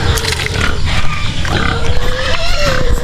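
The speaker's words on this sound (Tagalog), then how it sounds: "mga inahing baboy ito at buntis" Pregnant sows on a farm grunt and snort close by, a dense, continuous chorus of low grunts with faint voices mixed in.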